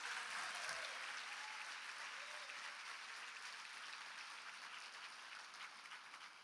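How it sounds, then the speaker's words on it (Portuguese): Church congregation applauding together in a sustained, dense wash of clapping that stays steady and fairly loud throughout, with no speech over it. "Vamos aplaudir ao Senhor mais uma vez,"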